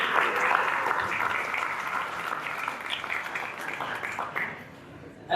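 An audience at a Lightning Network talk by Lightning Labs in Barcelona applauds with sustained, dense clapping that fades slightly toward the end, heard from within the crowd.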